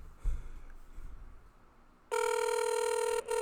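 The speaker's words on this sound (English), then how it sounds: "So go ahead and call him up, Kwame." A telephone ringtone sounds on an outgoing call, a loud steady electronic ring that starts after a quiet stretch with some faint low rustling and continues with one short break.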